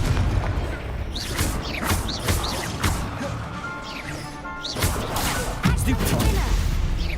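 Spell blasts and explosions from Hogwarts Legacy, a dense barrage of crashing bursts and whooshing impacts that follow one another rapidly and loudly, with a voice talking over the fight.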